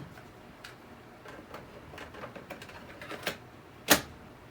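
A cassette tape goes into a Commodore Datasette with a run of faint plastic ticks and clicks, ending in a sharper snap followed by one loud clunk as the tape seats.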